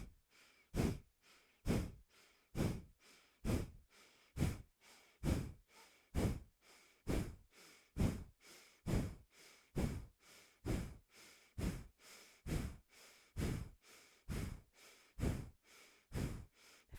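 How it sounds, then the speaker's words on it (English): A slow, deep breathing exercise in a yoga vinyasa session, with about twenty even, audible inhales and exhales repeating in a steady rhythm, close and quiet, with no talking. "Full deep breath in."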